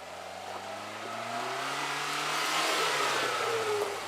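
A 4x4 off-road vehicle, driven by a Jeep enthusiast, revs its engine steadily at a 4XTR obstacle event in Parys in 2014, the mid-pitched drone rising and swelling as it works through the course, without any talk.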